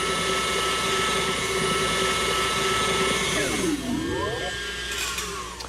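An electric mixer beats icing at a higher speed, a loud, steady motor whine with a bright hum. Near the end the pitch dips and then climbs again.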